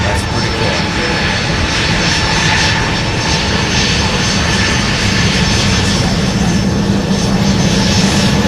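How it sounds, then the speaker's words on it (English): A United Airlines Boeing 737 taxis at Minneapolis–Saint Paul airport with a loud, steady jet-engine roar and a high whine. The engine noise stays constant and close throughout, and a voice is faintly heard beneath it. "United Airlines coming by the 737."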